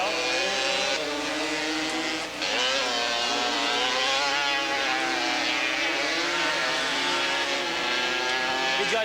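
ATV race bikes on the final lap of a 1986 AATVA Grand National at Porterville, a loud continuous buzzing engine whine with rising and falling revs as several machines pass, steady throughout with no talk.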